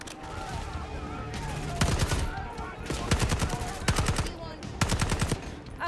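AS Val assault rifle fire in the video game Call of Duty Black Ops 6: loud, close bursts of rapid automatic shots repeat every second or so over a steady background rumble.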